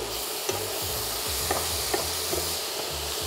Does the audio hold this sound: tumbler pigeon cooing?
no